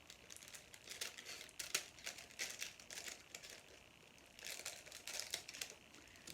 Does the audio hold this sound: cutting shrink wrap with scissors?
yes